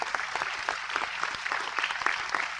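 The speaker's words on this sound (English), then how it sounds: "I think you can all give them a big round of applause" Conference audience applauding after a closing address at an international biodiversity gathering, steady dense clapping from a large crowd throughout, moderately loud and close.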